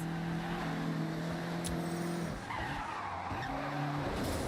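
A Mazda MX-5 drifts sideways in Forza Horizon, its tyres squealing steadily over a droning engine, the skid loud and continuous with a brief dip midway.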